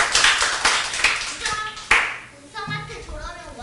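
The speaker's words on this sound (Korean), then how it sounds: "정확하게 박수 한번 쳐주세요" Children at a church summer camp service clap hands in a group, sharp scattered claps at first that fade out, followed by children's voices.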